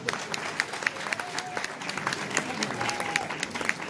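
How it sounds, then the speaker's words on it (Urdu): An audience at a Urdu poetry mushaira in Slough applauds, a moderate, continuous patter of many hands heard from a little distance, with faint voices beneath. "ایک دفعہ آپ اپنے لیے تالیاں بجا لیں"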